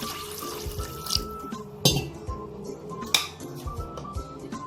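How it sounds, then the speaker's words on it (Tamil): Two tumblers of water tipped into a cooking pot for rasam in a kitchen, a few close splashing pours with a clink of metal vessels between them, over a low background hum. "ரெண்டு டம்ளர் தண்ணி ஊற்றுறாங்க"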